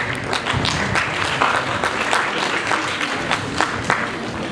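Audience at a school graduation ceremony clapping for a young pupils' stage performance, a dense, steady round of applause from a crowd, fairly loud and continuous with no talk.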